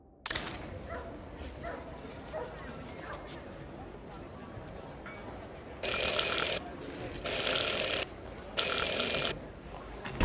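A bell rings three times in Syberia The World Before, three loud bright bursts of about a second each with short gaps between, following a quiet ambient stretch.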